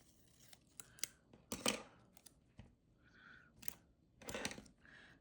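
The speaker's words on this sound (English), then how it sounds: "I'm just gonna cut this box and make it smaller." Scissors snipping and tearing through a cardboard box to cut it down smaller, a series of close, crisp cuts and rips with brief pauses between them, no talking.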